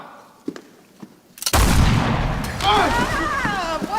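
A loud cannon-fire boom used as a stage sound effect in a school theater production of Treasure Island erupts suddenly and rumbles on, with actors' voices shouting over it.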